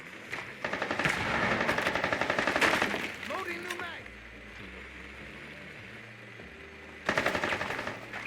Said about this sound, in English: Can you shoot down the zombies right now?